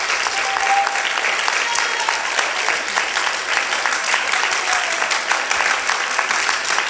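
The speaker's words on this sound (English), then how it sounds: "Let's say thank you to him by a round of applause." A round of applause at a camp gathering to thank a sponsor, dense continuous clapping from a crowd, even and sustained at a steady loud level with no voices over it.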